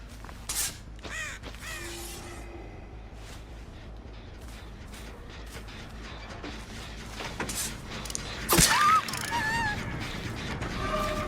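Crows caw in scattered bursts over a steady background hum, with a sharper burst of flapping and squawking near the end, in the video game Dead by Daylight.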